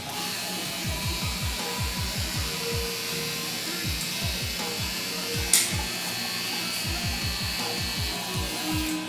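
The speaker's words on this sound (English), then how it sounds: "we'll be using my Wahl Detailers, starting in the nape area and then working our way forward" A Wahl Detailer electric hair trimmer works up the nape during a bald taper on ethnic hair, buzzing in short repeated strokes close to the ear, with a brief sharp click midway.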